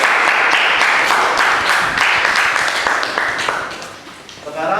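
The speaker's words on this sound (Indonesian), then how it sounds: "beri aplaus untuk kelompok" Students in a classroom clapping for a group, giving a steady burst of hand applause that fades toward the end, with a voice talking over it.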